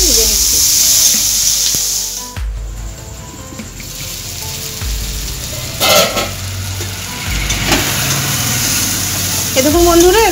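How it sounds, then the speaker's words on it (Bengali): Spiced ingredients for masala paneer, salted, fry in a pan with a loud, continuous sizzle, broken by stirring scrapes and a few utensil knocks. "এরপর এই উপকরণগুলো আমি একটু ভালো করে ভেজে নিচ্ছি।"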